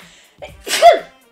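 One close, loud sneeze, a short intake of breath followed by a sharp explosive burst, heard by itself in a quiet room.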